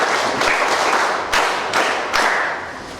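An audience at a community education and service event claps, a dense burst of applause that swells and dips in a few waves over three seconds before tapering off.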